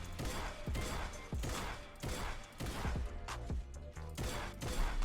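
Shotgun blasts in a Fortnite aim-training course with moving targets, a steady series of punchy shots roughly every second with short decaying tails, loud and close, with no talking.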